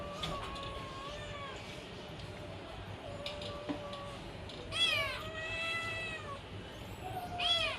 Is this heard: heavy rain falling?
no